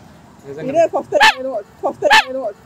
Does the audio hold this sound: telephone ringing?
no